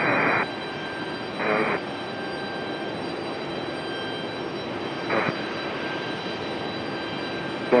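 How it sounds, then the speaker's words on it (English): A Boeing 737 jet from LA at Raleigh Durham International airport, a steady broad engine roar that holds throughout, with short bursts of radio tones cutting in now and then. "So here's our 737 from LA."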